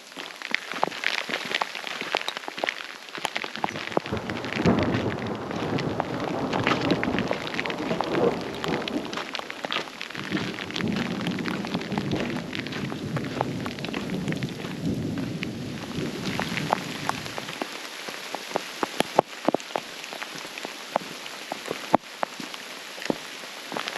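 Steady rain mixed with sleet hisses across a high mountain trail in Great Basin National Park during a chilly thunderstorm, a dense continuous wash with scattered sharper drop impacts and no voices.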